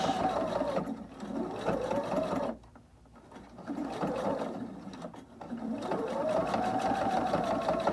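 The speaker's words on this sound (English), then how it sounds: "now I'm just going to allow the machine to stitch along the edge" A Viking Amber Air sewing machine stitching along the edge of a reusable makeup wipe, loud and close, with the motor's whirring hum rising and falling and a brief pause near the middle.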